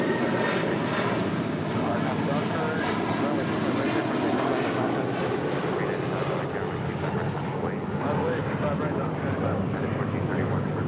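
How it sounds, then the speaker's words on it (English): United Airlines Boeing 757-300 departing LAX for Honolulu, a broad, steady engine roar that fills the whole stretch at moderate distance, with voices talking over it. "This is United Airlines 1431, headed out to Honolulu on a 757-300."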